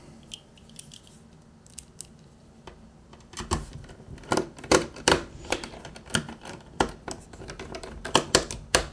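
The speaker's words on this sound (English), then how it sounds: "Pop the lid back on and let's screw these screws back in." Screws being driven back into the casing of an Xbox 360 Slim with a screwdriver, a run of sharp close clicks and ratcheting taps, sparse at first and then quicker and louder.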